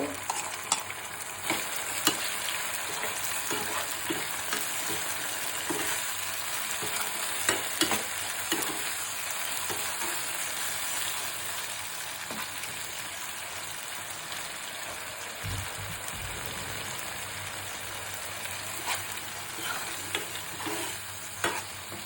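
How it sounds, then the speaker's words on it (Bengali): Chapa shutki dried fish drops into a pan of fried onions and sizzles, a continuous frying hiss with scattered clinks and scrapes of stirring, close and moderately loud, no talking. "পেঁয়াজ ভাজা হয়ে গেছে, শুটকিটা দিয়ে দিলাম।"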